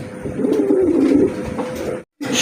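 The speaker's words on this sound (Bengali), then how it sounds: "এখানে একজোড়া বিগ সাইজের কিং কবিতর আছে" A pair of big king pigeons coo in a low, rolling murmur close by, a soft continuous burble that stops briefly near the end before resuming.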